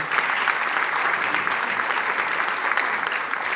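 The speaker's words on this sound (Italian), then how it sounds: "Un applauso." Steady, dense applause from a large audience at an Italian tribute concert, sustained and even throughout with no gaps or voices rising above it.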